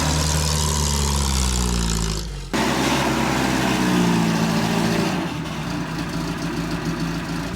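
Car engine revving hard and loud while drifting on a village road in Priuralsk, sustained roar with shifting pitch, a brief dip near the middle, then continuing steadily.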